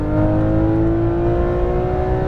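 A Porsche GT3 991 engine accelerates hard on a race track, a loud, close, rising whine with steadily climbing pitch and no voices.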